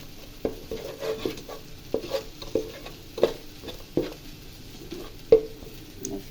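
A spoon stirs turmeric and chili powder into an oily spice mixture in a pan, making rhythmic scraping strokes roughly every half-second to second over a low sizzle, close and clear.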